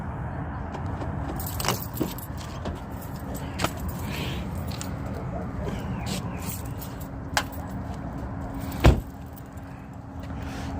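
Car keys jangle in short metallic bursts inside a car during a weekday drive to work, with a steady engine and road hum underneath and one louder clink near the end.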